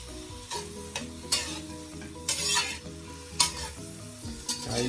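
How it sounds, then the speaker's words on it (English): Shrimp for jerk shrimp fried rice sizzle in a hot pan while being stirred, with sharp scraping bursts of the utensil about once a second over a continuous fry hiss, near and without talk. "keep stirring these around."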